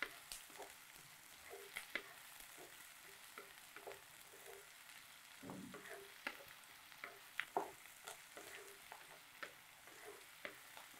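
Onion and garlic fry in a pan, a steady soft sizzle broken by frequent small stirring clicks and scrapes, close and fairly quiet with no talk.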